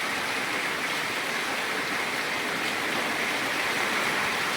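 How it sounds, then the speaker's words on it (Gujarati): Heavy rain pours down in a dense, loud, unbroken wash of noise with no pauses or voices. "વરસાદ આવી ગયો ધમધમાટી."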